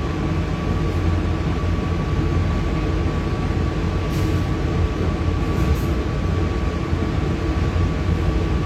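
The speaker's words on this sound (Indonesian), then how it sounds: "kereta api Berantas berangkat kembali dari stasiun" An economy-class Brantas train departs Kertosono station at night, giving a steady, loud rolling rumble of wheels and carriages with a faint sustained tone above it and no pauses throughout.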